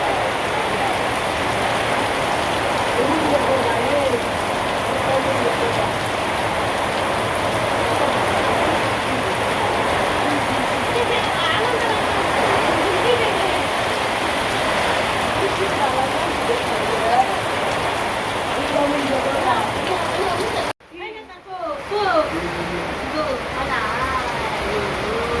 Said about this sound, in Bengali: বৃষ্টির মধ্যে সবাই বসে রয়েছে বৃষ্টি দেখবেন